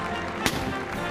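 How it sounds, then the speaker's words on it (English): A single sharp ceremonial gun blast from a 21-gun salute at a presidential inauguration, heard once in the middle, moderately distant over a steady crowd and broadcast background, with a fainter second report near the end. "I think it's like a 21 gun salute or something"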